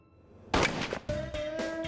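Sharp, loud rifle shot from a sniper firing at long range, a single sudden blast trailing into echoing rumble, followed by further thumping impacts.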